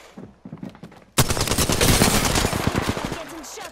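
Rapid automatic gunfire in Apex Legends erupts suddenly after a few quieter shots, a loud sustained burst of overlapping fire continuing to the end with a voice faintly underneath.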